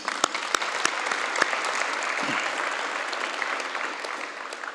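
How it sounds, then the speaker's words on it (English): A crowd at a helicopter company's one-year anniversary celebration in Guyana applauds a group, steady close clapping with a few sharp individual claps, easing slightly toward the end. "I want to give this group a round of applause once again."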